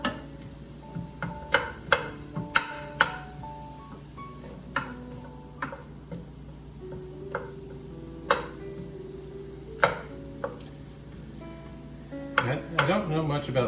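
Shallots fry gently in a pan with a soft, steady sizzle, punctuated by scattered clicks and taps of a utensil against the pan and a louder clatter near the end.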